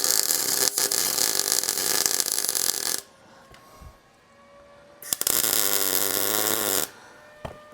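Tack welding metal on a 1956 International COE hotrod, two loud sustained crackling, buzzing bursts of about three and two seconds separated by a quieter pause with small clanks, heard up close with no talking.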